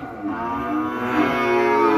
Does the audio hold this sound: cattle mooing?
yes